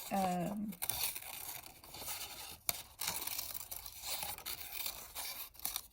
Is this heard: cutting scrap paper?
yes